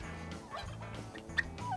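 Wild turkey gobblers in Virginia's Appalachian woods give rolling, rattling gobbles that rise and fall in bursts, fairly distant and soft, with no talk.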